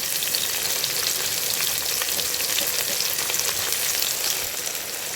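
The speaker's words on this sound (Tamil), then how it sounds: "வெங்காயத்தை சேர்த்தாச்சு. இப்போ இதை வதக்கிக்கிறோம்." Food sizzles and crackles steadily in a hot pan, a continuous bright hiss with no voices.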